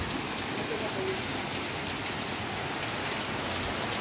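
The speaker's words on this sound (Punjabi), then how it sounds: "ਹੋ ਗਿਆ 15 ਮਿੰਟ ਮੀਂਹ ਪੈਂਦੇ ਨੂੰ ਰੈਗੂਲਰ।" Steady rain falls in a continuous, even hiss of drops striking surfaces, loud and close throughout with no pauses.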